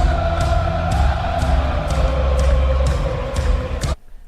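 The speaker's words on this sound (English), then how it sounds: "And you know, crowd goes wild." Stadium crowd at an LA Galaxy MLS match roaring after a goal, a loud sustained swell of cheering with rhythmic claps or drum hits that cuts off sharply near the end.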